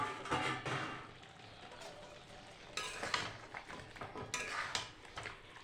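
A lid is lifted off a pot of chicken slowly braising over a low gas flame, and the meat is stirred. Faint metallic clatters and scraping strokes come in short bursts over a soft sizzle in a quiet kitchen.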